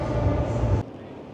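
Ivolga 4.0 train at Kiev railway station in Moscow, a loud close rumbling drone that drops off sharply partway through, leaving quieter station ambience, with a voice over it.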